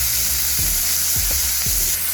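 Vegetables fry in oil with a loud, continuous close-up sizzle, broken by a few soft scraping stirs at a regular pace.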